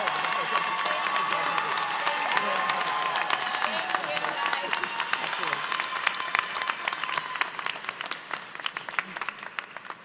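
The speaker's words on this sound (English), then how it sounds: "the applause took over" Sustained applause fills a university business school convocation hall after a teaching excellence award is announced, dense steady clapping from a large crowd lasting throughout.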